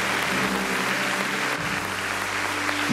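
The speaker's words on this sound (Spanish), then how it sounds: "Dale una aplauso al Señor" A church congregation applauds after a prayer, steady clapping throughout with a low hum of voices and tones beneath, moderately loud.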